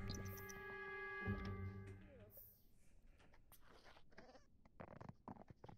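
Baby goats bleat faintly amid game music and background effects, with a few soft animal calls rising over the mix.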